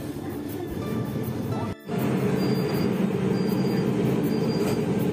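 Kolkata metro train riding underground with a steady loud rumble of wheels and carriage noise, a brief dip near the middle, then faint squealing tones, heard from inside the car with no talking.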